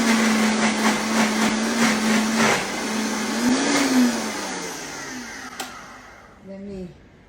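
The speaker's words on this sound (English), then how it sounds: "So I'm gonna put it all in the blender." Countertop blender whirring at high speed as it purees a vegetarian salad dressing, a loud steady motor whine that wavers, then spins down and stops, with a voice speaking briefly near the end.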